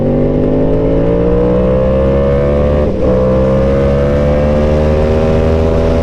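A BMW M1000RR 1000cc motorcycle engine revs loudly and close, a steady throaty drone whose pitch climbs gradually through the run with a brief dip midway.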